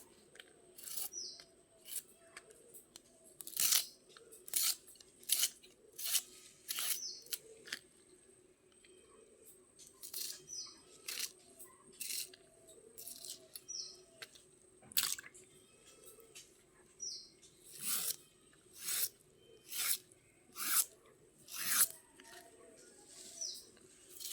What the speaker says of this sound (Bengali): এবার আমি কুচি কুচি করে কেটে নেবো আবারও।